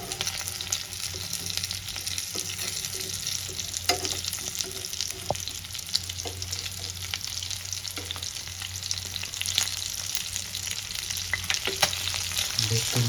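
Rohu fish pieces fry in hot oil in a pan for a Kashmiri-style recipe, giving a continuous close sizzle with occasional pops and crackles and no talking.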